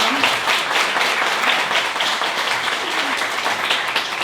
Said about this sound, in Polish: I tu proszę o gorące brawa dla pana profesora.